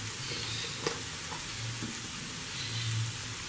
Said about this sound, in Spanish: mientras nuestros champiñones se cocen un poquito